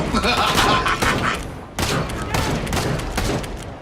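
Gunfire from the Killing Floor 2 video game comes as a loud, dense stream of rapid shots with a sharp burst midway. Game noise and talking sit beneath the shots.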